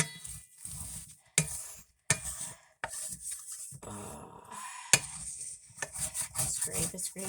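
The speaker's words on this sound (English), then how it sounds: "Scrape. No oil, because it's non-stick." A utensil scrapes across a dry non-stick pan with no oil, in short rough rasping strokes separated by pauses, close and fairly loud.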